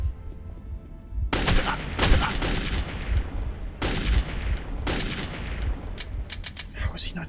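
Heavy automatic gunfire in the video game Metro 2033, an AK rifle firing in dense bursts with booming reports, loud and close, separated by brief pauses.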